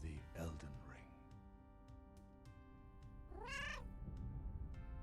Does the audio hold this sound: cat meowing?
yes